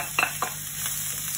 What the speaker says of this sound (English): When you're stir frying, it's all about hot heat.